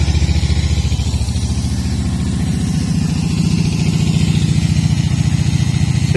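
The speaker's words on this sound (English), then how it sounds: "It is running from the scooter coil." A Moto Morini 250 twin-cylinder motorcycle engine idles steadily on a borrowed scooter ignition coil, a continuous close, loud throbbing mechanical pulse with no voices over it.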